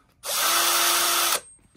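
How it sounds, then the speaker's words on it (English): A cordless drill turns an adjustable table jack, sounding one steady, loud whirring run of about a second that starts and stops abruptly. "I have it on a cordless drill."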